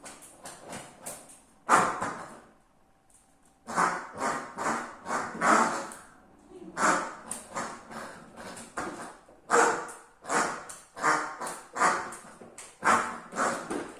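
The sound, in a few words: dog barking while playing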